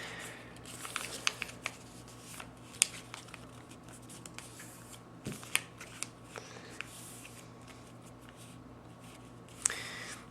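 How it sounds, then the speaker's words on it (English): Paper being creased and folded by hand while shaping a paper F-18 jet, a quiet stream of crinkles, rubs and a few sharp crisp snaps, with no talk. "Fold that over, flip it over,"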